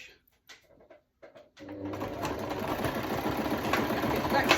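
A sewing machine stitching a peg bag starts up after a couple of seconds of quiet handling noises, then runs with a steady, rapid mechanical whir that builds slightly in loudness.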